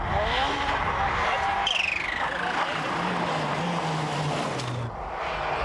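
A 1992 Circuit of Ireland rally car charges up the Hamilton's Folly stage, engine revving hard with rising and falling pitch through gear changes, loud and close, under a commentator's voice.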